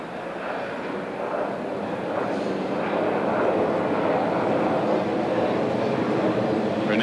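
A jet airliner roars steadily overhead above a 1987 Pirates–Mets baseball game in Pittsburgh, a broad continuous rumble that swells slightly and stays loud throughout, with faint crowd and broadcast murmur underneath.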